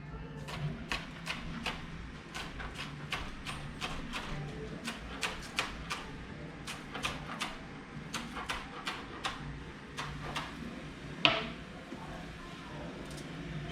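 A knife chops green onion on a cutting board with a steady run of sharp taps, each stroke a quiet click over low background hum.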